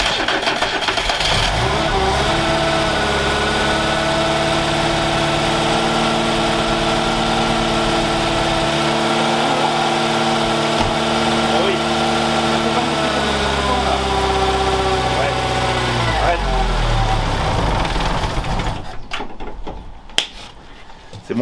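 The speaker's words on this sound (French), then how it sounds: "Il tourne carrément bien, il n'y a aucun à-coup." Renault 4L engine idling steadily after a Zenith 32 carburetor swap, a smooth, even mid-pitched hum running close and loud with a slight rev change late on, then cutting off near the end.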